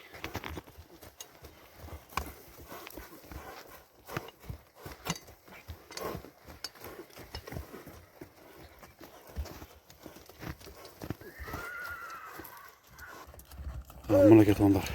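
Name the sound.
horse walking, hooves clip-clopping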